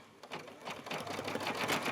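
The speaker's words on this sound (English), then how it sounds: "back in the sewing machine. All right, we just need to stitch that down." A sewing machine stitches down a leather bag strap, its needle hammering in a fast, steady mechanical patter that grows slightly louder and denser as it runs, close and alone with no talk.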